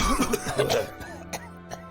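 A voice coughs and clears its throat close by, a rough burst followed by a couple of smaller coughs, apparently imitating the sound.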